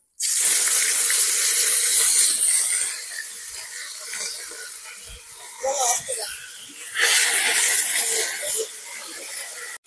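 Ginger and raw cumin paste sizzling in hot oil with bay leaf and whole spices, a loud, steady frying hiss that begins abruptly and carries on with bubbling crackles and brief swells.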